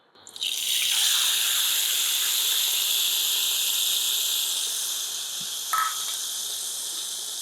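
Mustard paste mixed with water, salt and turmeric goes into hot oil with a sudden loud sizzle. The sizzle settles into a steady bright hiss with a small clink partway through.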